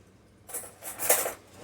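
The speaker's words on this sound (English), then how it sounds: "So let me grab a fork." Metal fork being pulled from a cutlery holder in a home kitchen, a short bright clink and jingle of silverware, near and alone.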